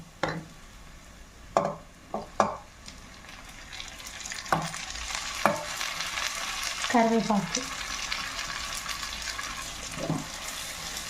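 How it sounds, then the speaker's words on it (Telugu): Onion frying with tomato and curry leaves for an Indian egg curry, a steady close sizzle rising midway, broken by several sharp clanks and scrapes of a spoon against the pan. "ఉల్లిగడ్డ దోరగా వేగిందండి. ఇందులో టమాటా, కరివేపాకు వేసుకుందాం."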